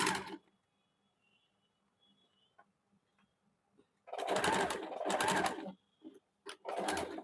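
A sewing machine stitches a seam on a gents short kurta in bursts: a faint stretch, then loud runs of close, rapid stitching that stop and start again.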